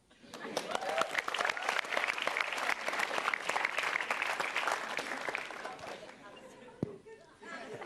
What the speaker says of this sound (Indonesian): Langsung beri tepuk tangan saja untuk Dedek.